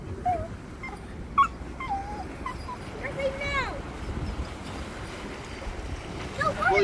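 A dog whines and whimpers in rising and falling bursts beside a fisherman landing a whiting while sea fishing at the Old Colwyn arches, with steady seaside background noise throughout.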